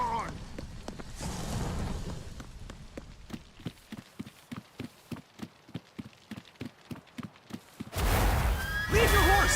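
Horse from The Witcher 3 neighs, then hooves clip-clop in a steady galloping rhythm, close and clear, before a louder burst of whinnying and commotion at the end; voices call out around it.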